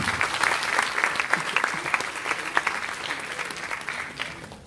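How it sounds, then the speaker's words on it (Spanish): Applause from attendees at an academic peace and post-conflict diploma session, a steady crowd of clapping hands held at moderate level, somewhat distant. "Pido que ofrezcamos un aplauso a Raquel Forero Mejía"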